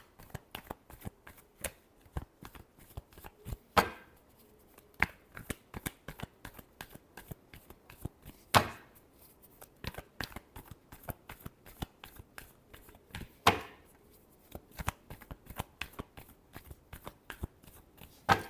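Tarot cards are shuffled over and over in quick riffling bursts of crisp slaps and flutters, close and fairly quiet, with a few louder snaps along the way.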